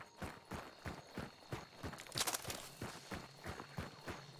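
Horse hooves in the video game Hunt: Showdown, a steady run of clip-clop footfalls at an even trotting rhythm, moderately loud and fairly close, with no talk over them.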